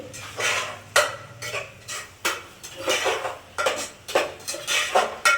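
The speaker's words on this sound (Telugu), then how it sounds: "పసుపు వేసుకొని ఒక కలపండి." A utensil stirs turmeric into vegetables in a metal pan for tomato curry, giving repeated scraping and clanking strokes at an uneven rhythm, close and clear with no talk.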